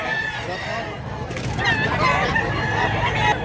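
A rooster crows at a Cebuano chicken seller's stall, its call rising loud and close over a busy market bustle, with people talking nearby.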